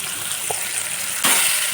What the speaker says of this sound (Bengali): তাই জন্য আমি বলছি অল্প করে ভাজি কারণ কুমড়োটা তো শেষ করতে হবে